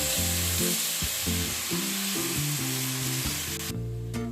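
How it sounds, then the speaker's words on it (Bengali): One cup of water goes into a hot pan for a vegetarian aloo dum potato curry, setting off a steady, loud hiss and sizzle that runs throughout over background music. "এবার এর মধ্যে আমি জল অ্যাড করে দিচ্ছি 1 কাপ।"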